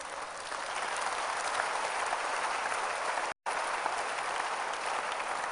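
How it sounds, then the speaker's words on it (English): A church congregation claps, a steady dense wash of applause that is faint and distant, broken by a brief dropout partway through. "If you want to clap for Jesus, clap for Jesus."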